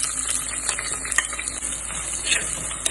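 Chopped small onions frying in a pan for chicken curry, a continuous bright sizzle with occasional stirring scrapes, close and moderately loud, with no talk.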